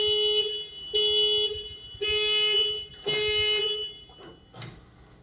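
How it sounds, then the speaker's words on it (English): A 1996 Acura SLX security alarm sounds its horn in repeated steady tones of about a second each, separated by short gaps, loud and close, with no talking. "Any attempt to manipulate any lock mechanism without the key will activate the alarm, which includes the horn sounding and headlights flashing for 3 minutes."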